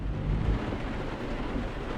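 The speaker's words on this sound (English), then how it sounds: "Wow, that realistic raining." Steady dense rain in Euro Truck Simulator 2, a loud continuous hiss and rumble with no clear breaks, heard up close and alone.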